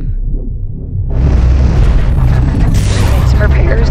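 Spaceship weapons fire and explosions in the space game Cosmoteer: a quiet start gives way to a heavy sustained boom and rumbling blast that stays loud to the end.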